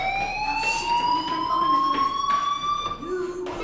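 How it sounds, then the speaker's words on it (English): An in-game fire alarm from Life Is Strange rings steadily with a sustained, slightly rising electronic tone and layered harmonics, loud and continuous throughout, with faint background murmur beneath. "do you hear that fire alarm? That means you should be outside."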